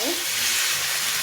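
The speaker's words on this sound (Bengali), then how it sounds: "তো এইভাবে সবগুলো ভেজে নেবো।" A thin rice-flour roti frying in a pan makes a close, steady hissing sizzle with a steamy edge, even in loudness through a brief moment.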